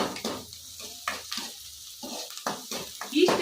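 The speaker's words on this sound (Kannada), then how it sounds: "ಈಗ ಸ್ವಲ್ಪ ಫ್ರೈ ಆಗಿತ್ತು ಚೆನ್ನಾಗಿ ಫ್ರೈ ಆಗಲಿ" Cluster beans (guar) fry in a pan while a spoon stirs them in repeated scraping strokes over a soft sizzle, close and fairly quiet.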